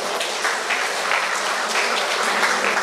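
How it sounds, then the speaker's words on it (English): Retired persons at a monthly association meeting in Trinidad and Tobago clap together in a steady, dense round of applause that holds at an even level throughout, with no talking over it. "Give yourselves a round of applause for that."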